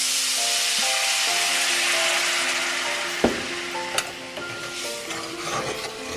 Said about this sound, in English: I'm going to scrape it. And I'm going to put in some white wine.